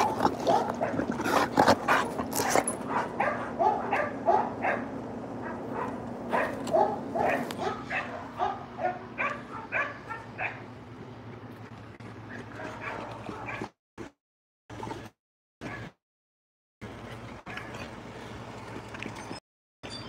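American bulldogs bark in quick loud bursts, then whimper and yip, close by, with a few abrupt silent gaps toward the end.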